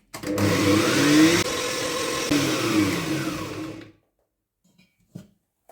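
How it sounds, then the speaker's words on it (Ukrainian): Electric grinder grinding 200 grams of garlic for sweet chili sauce, a loud whirring motor with shifting pitch as the load changes, running about four seconds before cutting off, followed by a couple of faint knocks. "Перемелюємо часник"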